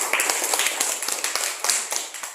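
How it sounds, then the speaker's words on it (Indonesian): Classmates clap for group 1 in a classroom, a quick, close patter of individual hand claps with distinct sharp hits, lasting a couple of seconds. "tepuk tangan buat kelompok 1."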